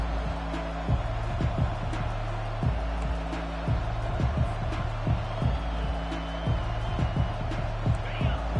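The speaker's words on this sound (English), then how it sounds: "This crowd bringing an ear-splitting welcome to their visitors." Stadium crowd at a televised college football game roars and cheers loudly and continuously, a thick wash of noise with a commentator talking over it.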